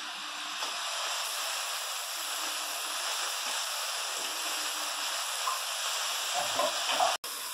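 Steady sizzling and hissing of food sautéing in a hot pan, continuous and fairly close, with a brief clatter near the end.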